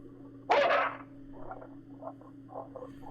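A dog lets out one loud, sharp bark close by, then a few softer, muffled woofs, all over a low steady hum.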